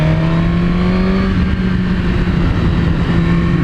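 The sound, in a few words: Suzuki GSX-R1000 superbike with Yoshimura exhaust riding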